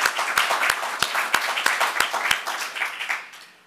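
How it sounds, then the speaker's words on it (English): Applause from an audience at a charity golf tournament announcement, a brief burst of scattered clapping with distinct individual claps standing out, tapering off after about three seconds. "I think you ought to give yourselves a round of applause for a job well done"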